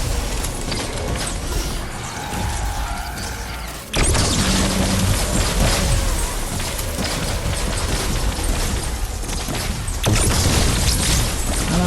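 Plasmatic Discharger explosive weapon in Fortnite Save The World, firing booming energy blasts with a sharp burst near the four-second mark and another around ten seconds, over a loud, dense bed of continuous game noise.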